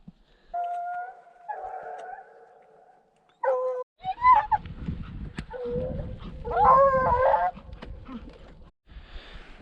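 Hunting dogs chasing a mountain lion through cliffs and ledges bay and howl in drawn-out, wavering calls, some overlapping, carrying from a moderate distance with short pauses between bursts.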